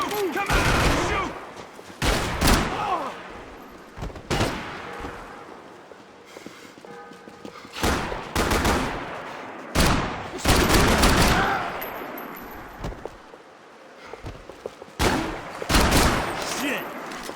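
Heavy gunfire from a Max Payne 3 shootout: repeated loud bursts of automatic fire and single shots in clusters over the whole stretch, with shouted voices mixed in between the volleys.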